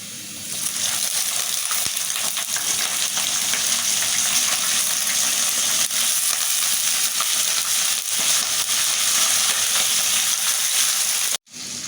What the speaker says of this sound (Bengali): এখন আমি চিংড়ি মাছ কয়টা এর সাথে ভাজিয়ে নেব সুন্দর করে